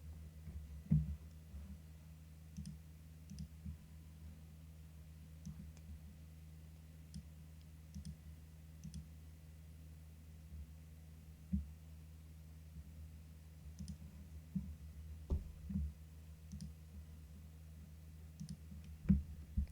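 Sharp computer mouse clicks come singly and in small clusters at irregular intervals over a steady low hum, faint and close by, with no talk.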